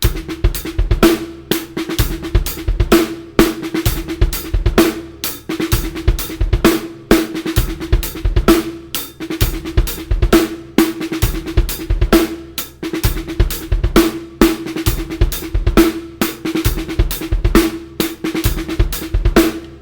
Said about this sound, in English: we're going to add a little extra snare drum on beat 4